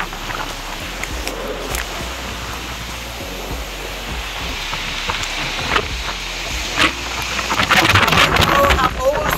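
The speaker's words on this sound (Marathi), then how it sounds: "पाऊस आणि वारा" Strong wind and rain sweep across Gorakhgad fort in the Sahyadri hills, a continuous rushing roar with gusts that swell louder toward the end, while someone talks over it.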